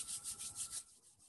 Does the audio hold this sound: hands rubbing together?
yes